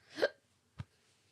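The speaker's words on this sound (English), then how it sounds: "Got the hiccups now." A single soft hiccup from a person in a quiet room, followed by a faint second catch of breath, close and isolated with no talk over it.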